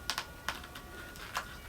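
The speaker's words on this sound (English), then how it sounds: "Ratchet inside there. You could hear it clicking." Ratchet joint in the leg of a DC Multiverse Devastator action figure clicking as it moves, several sharp small clicks at irregular intervals, close and quiet with no voices.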